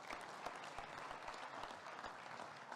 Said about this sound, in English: And applause for everybody.